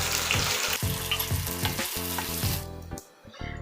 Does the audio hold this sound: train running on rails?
no